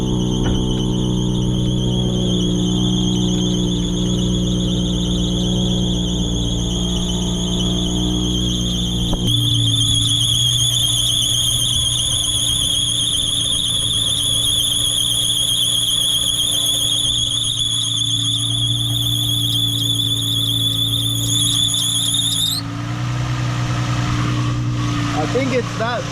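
Sustained high-pitched squeal from the belt on a Nissan 350Z engine at start-up, a loud steady whine over the idling motor that holds for about twenty seconds, shifts, and then cuts off, with someone talking near the car.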